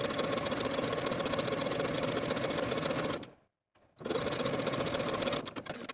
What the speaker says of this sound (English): we're going to sew the bottom edge through all layers with a 3/8 inch seam allowance